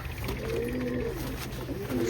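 Pigeons coo softly in low, rolling calls against a steady background hum, a couple of newly acquired birds being handled and settled into a cage.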